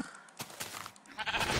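A Minecraft sheep gives a short bleat, faint and brief, over a quiet background.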